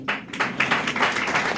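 A church congregation claps together during a New Year's sermon, a dense, steady patter of many hands filling the space at moderate loudness without speech.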